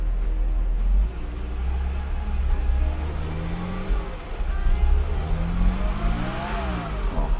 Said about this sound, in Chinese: 我试着慢慢的加油看看